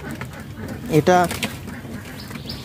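A Lotan pigeon on a domestic pigeon farm, in a rain-soaked, flooded loft, gives one short, close coo in the middle, with a person talking around it.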